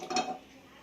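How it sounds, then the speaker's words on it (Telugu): A single soft metallic clank of a frying pan being set down on a gas stovetop, brief and fairly quiet. "ఇప్పుడు స్టవ్ పైన బాండ్లీ పెట్టి స్టవ్ వెలిగించుకుందాము."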